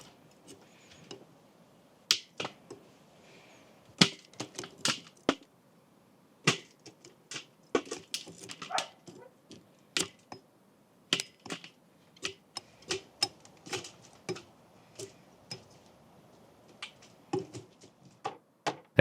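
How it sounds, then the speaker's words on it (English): Natural beeswax being cut into pieces with a knife gives sharp, dry clicks and snaps at irregular intervals, close and fairly quiet against near silence, with no talking. "So, I cut it for wax to melt fast and easy."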